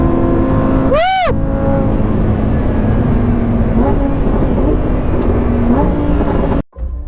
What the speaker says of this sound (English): We are at the Sepang International Circuit to drive this car, the Lamborghini Huracan STO.